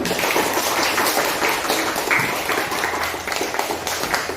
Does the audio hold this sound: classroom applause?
yes